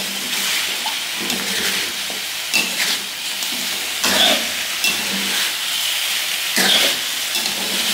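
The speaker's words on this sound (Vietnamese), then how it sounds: "bây giờ mình sẽ xào cái hỗn hợp này lên cho nó chín rau củ của mình luôn" Cauliflower, carrot, corn and wood ear mushroom stir-frying in a pan give a steady close sizzle and hiss, with a few louder scraping stirs breaking through at intervals; no one speaks.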